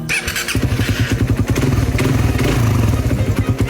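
A motorcycle engine idles close by with a rapid, steady clattering knock of piston slap, a loose metallic slapping running through the whole run.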